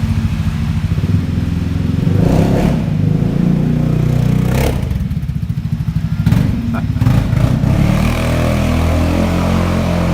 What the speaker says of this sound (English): I thought he was on a little scooter, but it sounds like a monster.